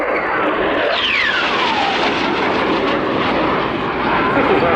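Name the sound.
Czech Saab Gripen fighter jet flying at airshow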